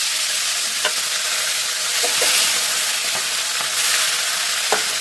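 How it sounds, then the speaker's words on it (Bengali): A fish head fries in hot oil seasoned with fenugreek seeds and bay leaves, giving a steady close sizzle broken by scattered sharp pops and stirring clicks. "মাথাটা ভালো করে ভেজে নিই।"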